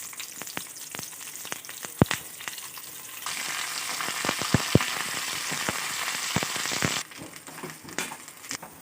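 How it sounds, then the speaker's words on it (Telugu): Garlic, dried chillies and curry leaves tempering in hot oil for sambar, a steady close sizzle with crackling pops that surges louder midway, then eases back. "పోపు వేగింది, అందులో వేసుకోవడం."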